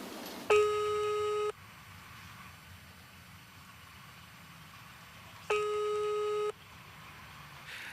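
A telephone busy signal sounds twice as a pair of loud, steady electronic tones, each about a second long, separated by several seconds of quiet background hiss on an unanswered call.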